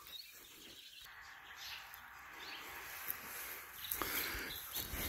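Owl chicks in a nest on a hay bale at a cattle ranch, giving faint, high raspy hisses and chirps, quiet and intermittent over a low background with a slightly louder burst near the end.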